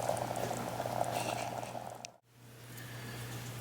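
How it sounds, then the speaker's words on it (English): Southern fried corn boils steadily in a slow cooker, a dense close bubbling and simmering with a low constant hum, briefly cutting out before resuming. "you can see that it's boiling"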